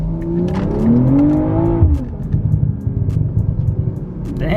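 A BMW M340i on TE37SL wheels accelerates hard, its engine note climbing loudly in a rising rev before dropping into a rough, rumbling drone, heard close up.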